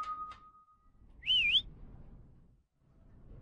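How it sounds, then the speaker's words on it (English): Eerie whistling in the Lazaret horror video game: a short high wavering whistled phrase after a brief held tone, set against quiet, hollow ambience with near-silent gaps. "Am I meant to go towards the whistling?"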